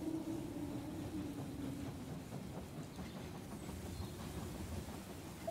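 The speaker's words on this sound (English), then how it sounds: "The train has arrived at the station." A train rumbles steadily into a station in a strategy video game, a low continuous rolling hum heard at moderate distance with no speech.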